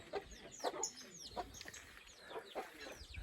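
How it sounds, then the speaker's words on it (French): Chickens cluck around a henhouse where a mother hen roams with her chicks, with soft repeated clucks and short chirpy calls, faint and scattered over a quiet outdoor background. "Ils sont enfuis du poulailler avec la mère poule"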